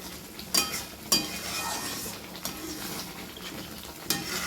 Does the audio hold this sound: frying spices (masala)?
yes